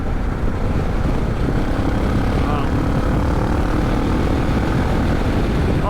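A Suzuki DR650 motorcycle engine pulls hard under acceleration with a dense, steady roar and heavy wind noise throughout, loud and close.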